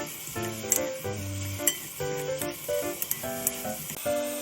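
King oyster (saesongi) mushrooms stir-frying in a pan, a steady soft sizzle with occasional clinks and scrapes of a utensil stirring, close and moderately quiet.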